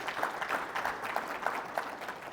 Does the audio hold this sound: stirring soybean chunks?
no